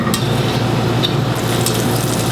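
Two tablespoons of vegan butter melt in a medium saucepan over medium heat, giving a steady, close, soft sizzle with a low hum and no talking.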